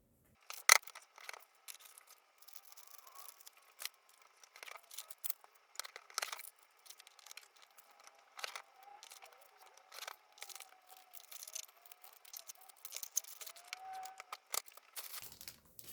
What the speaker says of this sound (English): and then I will trim these down.